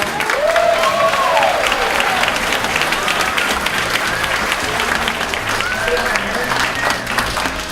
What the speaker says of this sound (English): The applause is because they want you to keep going.